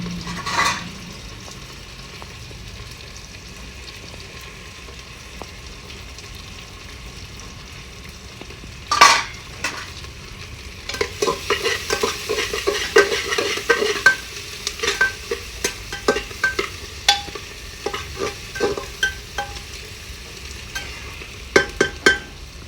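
Onions frying and being stirred in a pan for a chicken curry, with a steady low sizzle and a sharp scrape near nine seconds, then a run of repeated stirring clatters and scrapes over the continuous frying hiss.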